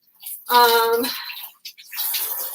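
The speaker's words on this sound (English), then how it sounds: "Just gonna rinse off these potatoes" Potatoes rinsed under running tap water in a home kitchen, a short, close burst of splashing flow that eases off and then resumes more quietly.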